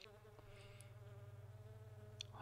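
A fly's buzzing drone in a video game where the player controls a fly, steady and close with a pulsing hum and a few brighter game chimes over it, no talking.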